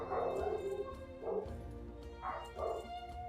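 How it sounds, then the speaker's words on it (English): Dogs barking in a home, several loud woofs in uneven bursts over a steady background hum of game audio, heard from a short distance with no talking. "Yes, those are my dogs barking."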